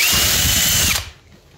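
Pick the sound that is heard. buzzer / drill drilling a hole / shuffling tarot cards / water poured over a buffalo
drill drilling a hole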